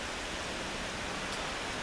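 Rain falling outdoors as a dense, uniform hiss, loud and continuous over a short stretch with no talk.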